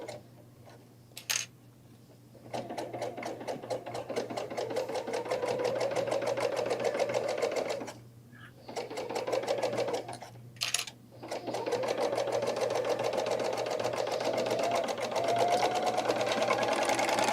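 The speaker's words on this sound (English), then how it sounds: "this is why I really like having that extension table on the serger" A serger sewing machine with an extension table stitches a tote bag, its fast rhythmic whir running steadily in close bursts with two brief pauses and no talk.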